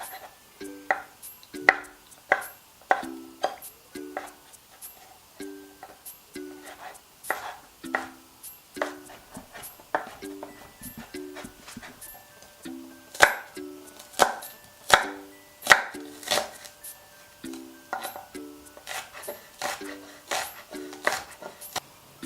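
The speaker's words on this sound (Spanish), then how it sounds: "Picamos menudito todo lo que hemos sacado de los champiñones y lo reservamos" Mushroom stems being finely chopped with a knife on a board, a long run of quick, close, crisp taps in rhythmic bursts with short pauses between, no talk.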